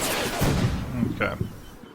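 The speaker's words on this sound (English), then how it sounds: "my artillery is coming closer" Artillery fire in the Combat Mission: Battle for Normandy war game, a few booming impacts rumbling under a speaking voice across two seconds.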